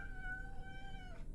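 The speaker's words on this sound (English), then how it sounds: "Oh, look at the kitty." A cat in a video game gives one drawn-out, wavering meow, close and clear over a low background rumble.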